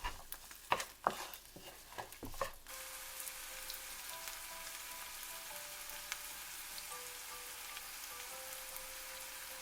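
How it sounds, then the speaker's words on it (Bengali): A few clattering knocks at the start, then a steady hiss of onion and garlic frying in hot soybean oil continues alone. "আমি এখন পেঁয়াজ দিয়ে দিচ্ছি আর সাথে রসুন।"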